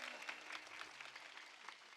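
Applause from an audience at a Marathi kirtan, a brief burst of many hands clapping together, fairly faint and somewhat distant.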